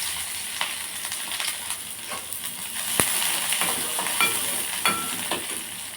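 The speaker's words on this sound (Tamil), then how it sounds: "கடுகு பொரிஞ்சிருச்சுங்க, வெங்காயம் ஆட் பண்ணிக்கலாம்." Onion frying in hot oil with mustard seeds, a steady close sizzle with scattered crackles and pops and an occasional stir, no talking.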